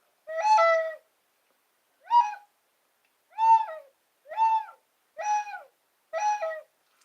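A voice imitates a barn owl's hoot: six loud, harmonic, slightly wavering calls, the first longest, spaced about a second apart and heard alone without other talk.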